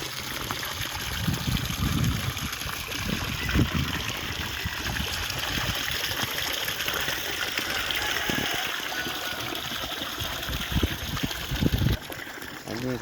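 A stream runs steadily beside a village garden in northeast Thailand, giving a constant broad rushing hiss throughout, with occasional low thumps and rumbles mixed in underneath.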